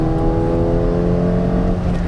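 A modified Ford Fiesta ST engine accelerates with a loud, steady, rich drone that holds throughout, with no talking over it.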